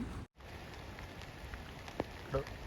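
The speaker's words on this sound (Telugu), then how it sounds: "నైట్ నుంచి వర్షం అయితే ఫుల్గా పడుతుంది" Steady heavy rain patters continuously on a surface on a mountain trek near Beas Kund glacier lake, with a few louder drips standing out near the end; no voices are heard.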